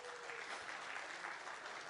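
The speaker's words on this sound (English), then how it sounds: "Please, a loud round of applause for the sponsors as you're going through them." Conference audience applauding the event sponsors during a welcome session, a dense, even burst of clapping sustained at steady volume from start to finish.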